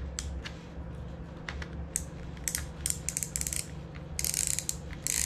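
Plastic clamp of a bike and motorcycle phone holder being screwed tight around handlebars, giving a series of quick ratcheting clicks that come in irregular clusters, growing denser toward the end, close and clear.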